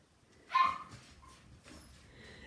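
A dog gives one fairly close whine or whimper, followed by softer whimpering over faint background noise.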